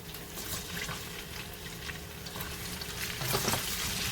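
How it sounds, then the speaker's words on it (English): Vegetables fry with tomato paste in a pot for Haitian-style oxtail, giving a soft continuous sizzle and hiss. Faint stirring clicks sit on top, and the sizzle swells slightly near the end. "And I'm going to let it cook or fry for a good 3 minutes"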